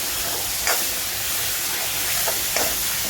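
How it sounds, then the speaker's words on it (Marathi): Ground raw masala paste sautéing in hot oil in a pan for a Malvani drumstick and potato curry, a steady close hiss with faint scraping stirs now and then. "कच्च्या वाटपाचं आपण मिश्रण केलेलं आहे ते चांगलं तेलामध्ये अगोदर परतून घ्यायचं आहे"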